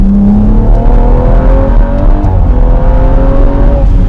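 A 430 BHP BMW 135i slides sideways on a cold day, its engine revving hard and holding a loud, rising and falling drone close by, with no voices.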